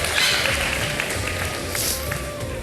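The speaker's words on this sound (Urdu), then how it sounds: "بجا دے تالیاں یار" A studio audience on a televised Ramadan iftar show claps in a steady, dense wash of applause that lasts throughout.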